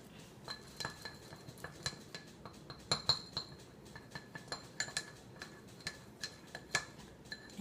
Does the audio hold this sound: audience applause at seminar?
no